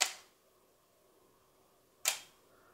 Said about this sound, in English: this camera has a mechanical shutter that moves out of the way and allows light to hit the sensor